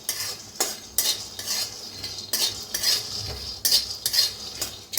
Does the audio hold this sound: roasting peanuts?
yes